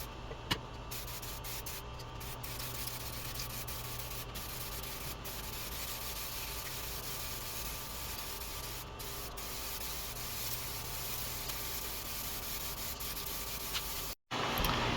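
Steady, continuous hiss of a spray gun laying a second coat of clear coat onto the body panels of a crashed NC Mazda Miata under salvage rebuild, loud and unbroken for about fourteen seconds before cutting off briefly.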